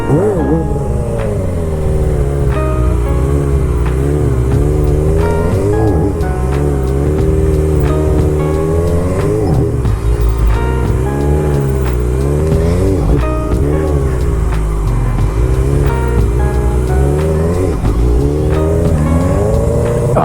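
A motorcycle engine running steadily and loudly, its note sagging and bogging as the clutch is let out, with some talk over it.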